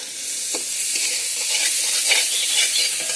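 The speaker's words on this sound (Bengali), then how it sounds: "এখন দিয়ে দেবো টমেটো, কাঁচা লঙ্কা, টমেটো কুচি আর কাঁচা লঙ্কা কুচি দিয়ে দিলাম।" Chopped tomato and green chillies sizzle in hot oil for egg chicken chow mein, a bright continuous hiss with periodic scraping strokes of a spatula, close and without speech.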